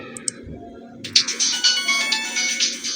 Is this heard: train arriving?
no